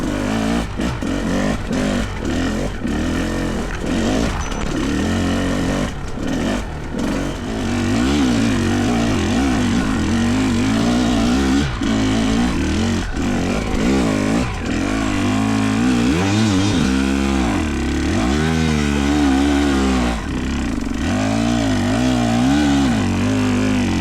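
A Fantic XE300 motorcycle engine revs and shifts gears while being ridden, rising and falling in a loud, close, continuous roar with rapid throttle changes throughout.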